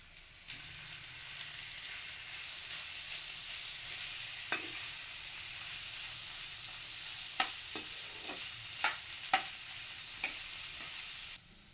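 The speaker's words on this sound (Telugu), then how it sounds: "టమాటా ముక్కలు ఉడికించి మ్యాష్ చేసుకున్న బంగాళదుంపలు వేసుకుని కలుపుకోవాలి" Stirring boiled tomato pieces and mashed potatoes together in a pan for homemade pea chaat, a steady soft scraping and mixing with low sizzling throughout and a few sharper spoon clicks near the end, with no talk.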